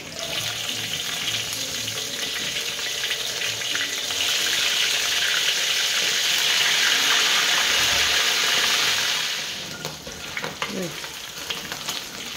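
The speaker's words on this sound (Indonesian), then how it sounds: "Sekarang kita goreng ikan masinnya." Salted fish frying in a pan in a home kitchen, giving a loud, continuous sizzle that holds for several seconds and then eases off, with faint clatter toward the end.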